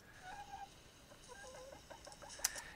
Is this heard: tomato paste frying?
no